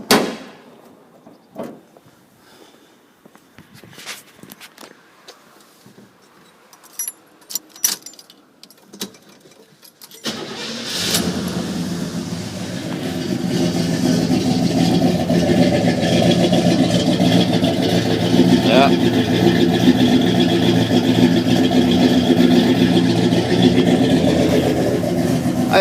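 Oldsmobile Cutlass convertible with a Rocket 350 V8: keys jangle and small clicks in near silence, then the engine catches and settles into a steady, fairly high idle that rumbles on loudly for the rest of the time.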